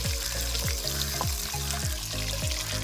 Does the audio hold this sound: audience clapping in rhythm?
no